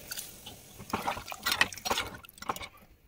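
Water poured into mutton in a pressure cooker, a splashing, gurgling pour in several bursts over about two seconds, close by and moderately loud, with no talking.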